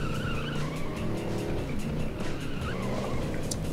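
A car in the racing game FUEL drives hard and skids, the engine droning loud and close while tire squeals whine across the surface in a few sliding bursts.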